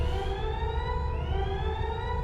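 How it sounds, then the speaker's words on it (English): A central alarm siren blares inside a space station in the game Event[0], a loud, steady wailing tone with layered harmonics that climb slightly in pitch and hold without a break. "The central alarm went off and the red lights blinded you."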